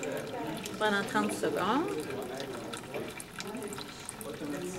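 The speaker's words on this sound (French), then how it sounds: "Le système, donc, est encore en train de vider de l'eau sale de notre aquaterrarium" Dirty water drains steadily from an aquaterrarium system in a continuous, moderate flowing rush. A voice talks over it.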